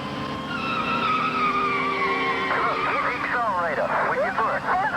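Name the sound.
car braking hard, tires skidding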